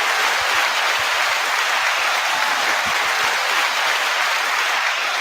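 Sustained applause from a studio audience on a music talk show, a thick continuous roar of clapping at close range that holds level without a break.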